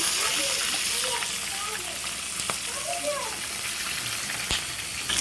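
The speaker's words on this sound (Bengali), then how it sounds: "দেখেন আমার মাছটা কত সুন্দর ভাজা হয়ে গেছে" Spice-coated tilapia frying in a pan, a continuous sizzle and bubbling of hot oil heard under a voice talking nearby.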